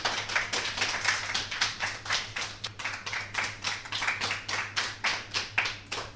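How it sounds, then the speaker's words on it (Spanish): Audience applause at a quiz contest: a room of people clapping steadily for about six seconds, the claps landing in a loose rhythmic pulse with a low hum underneath. "Esos aplausos, por favor."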